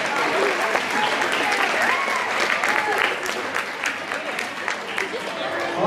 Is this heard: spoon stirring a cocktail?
no